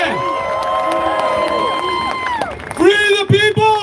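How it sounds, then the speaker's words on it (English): An audience cheers and applauds for Michael Thompson at a speaking event, loud crowd noise with shouts and whoops throughout, voices rising over the clapping, louder bursts near the end. "let's give another round of applause for Michael Thompson"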